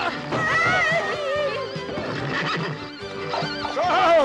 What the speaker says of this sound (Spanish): ¡Para los caballos inmediatamente!